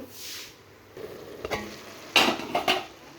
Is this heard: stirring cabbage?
yes